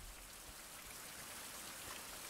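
Rain falls in the shipwreck survival game Survive: The Fountain of Youth, a steady, faint hiss of drops pattering on surfaces, continuous and even with no voices.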